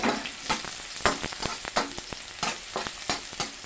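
Onions frying in a pan for a squash and squash-leaf sauté, with a busy crackling sizzle and frequent quick stirring scrapes, close but fairly soft, and no talking.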